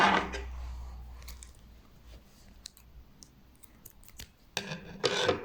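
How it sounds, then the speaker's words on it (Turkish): Scissors snip through crochet yarn or thread close up, with a few crisp clicks and a louder double cut near the end after some quiet rustling. "Şöyle zincirimi çektim ve ipimi kesiyorum."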